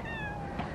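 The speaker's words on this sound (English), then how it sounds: "I see you, kitty, hiding in the bushes." A cat hidden in outdoor bushes gives a single short, faint meow over a low background hum.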